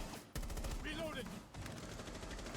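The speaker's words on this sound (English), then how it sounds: "Jingle Peak's coming out, bullets whipping by people's heads" Rapid video-game gunfire crackles in dense bursts through most of the stretch, with bullets whipping past and a short whizzing streak partway through, loud and continuous apart from a brief gap early on.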